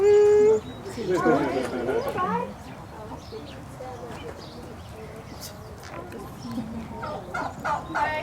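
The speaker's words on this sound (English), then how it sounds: "Oi, näitä kalkkunoita." Turkeys gobble in a burst of warbling calls near the start at a farm animal sanctuary in Acton, California, with talk over the top and more scattered bird calls later on.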